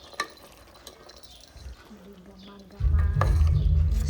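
Mutton sambar being stirred in a pot, Nati style: a soft, wet stirring and bubbling swells into a loud, dense churning for the last second and a half, close up, with no talk.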